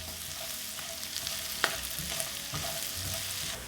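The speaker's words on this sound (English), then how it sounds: "Add half of a shallot finely cut. Saute this until it's nice and tender." Finely cut shallot sautés in melted butter, a soft close sizzle broken by light stirring scrapes and one sharp utensil tap near the middle.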